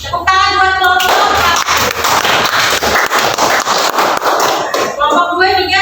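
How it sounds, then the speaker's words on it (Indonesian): A classroom group claps for another group for several seconds, a dense run of loud, close hand claps, with a short musical jingle before and after. "Tepuk tangan buat kelompok"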